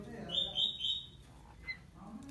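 Clear, high-pitched chirps and whistled notes of magpie robins and straw-headed bulbuls in an aviary come in short bursts, fairly close, over soft background noise and some low murmuring.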